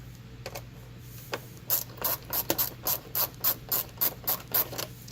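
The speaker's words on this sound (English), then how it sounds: "So go ahead, get that screw started." A screw being driven by hand while installing a mud flap on a 2018-or-later Volkswagen Tiguan, a close run of about a dozen evenly spaced ratcheting clicks speeding into a steady rhythm over a low hum.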